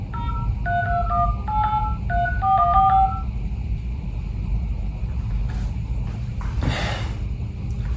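A quick series of mobile phone keypad tones, several short beeps in a row, over a steady low engine rumble, followed by a brief rustle.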